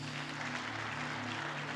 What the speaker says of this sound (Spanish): Dale más fuertes aplausos